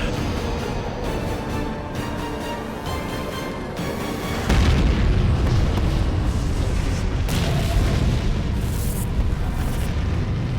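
Bomb explosion in Halo 4, a loud, heavy boom that erupts midway and rolls on as a sustained rumbling roar, over a dense layer of game sound already present beforehand.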